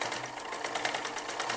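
A sewing machine runs steadily at close range, its rapid needle chatter continuous while stitching the back neck of a kurti, with no voices.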